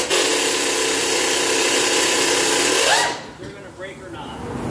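An impact wrench fires a sustained, loud, close buzzing burst on the 14mm bolts of a 2009 Toyota Highlander center muffler, then winds down and stops. Faint clatter and a brief voice follow.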